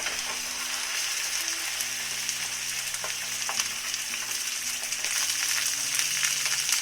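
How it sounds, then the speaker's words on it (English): Venison shoulder sizzles steadily while searing in a hot pan, a constant crackling hiss at moderate volume, close up, with no talking. "So I'm going to put in our shoulder. You have to sear it on both sides."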